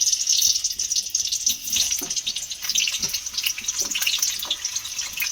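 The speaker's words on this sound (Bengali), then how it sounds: "এই আলুগুলো তেলের মধ্যে দিয়ে দেব" Diced potatoes tipped into hot white oil for a chicken biryani, giving a steady, close hiss of sizzling with small crackles throughout, no voices.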